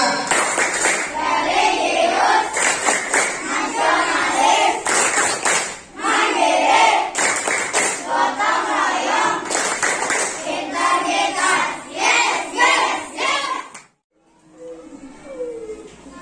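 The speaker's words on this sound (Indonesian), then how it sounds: "Tepuk PPK dulu." A primary school class chanting and clapping the Tepuk PPK rhythm together in unison, loud rhythmic bursts of claps woven through group voices for about fourteen seconds, then a sudden stop into quieter room sound.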